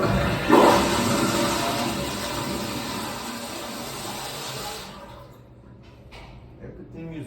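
A toilet fitted with a Sloan diaphragm flush valve flushes in a loud, rushing surge of water that lasts about five seconds before tapering off, with a voice talking nearby.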